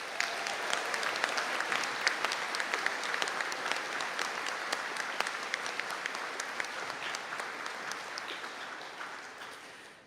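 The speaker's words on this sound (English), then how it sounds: "I think that deserves a round of applause." A graduation conferring ceremony audience in Donegal gives the graduates a long, even round of applause, a continuous crackle of many hands clapping that only starts to thin out in the final second.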